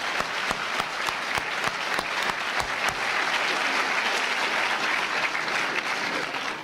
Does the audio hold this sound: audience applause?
yes